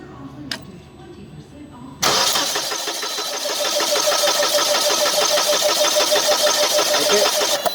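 A Mazda engine cranks without starting after its propane supply has been removed. A quiet click comes first, then a loud, steady rhythmic churning of the starter that carries on to the end.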